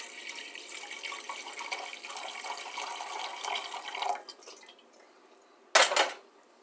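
Water pours steadily into a cooking pot of lentils and peas for about four seconds, thinning out, followed by a short louder splash near the end.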